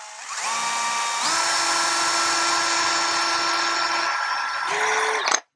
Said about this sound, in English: So I'm going to have to drill it a little bit off to one side.